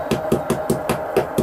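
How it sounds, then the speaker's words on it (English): A small hammer taps the wire ends of a coil core to make them flush, eight sharp, evenly spaced metallic knocks close up. "Try to tap them all even. Might have to get a small hammer or something to do this."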